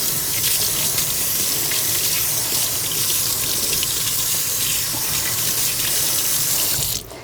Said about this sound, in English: we're going to again rinse it off with water.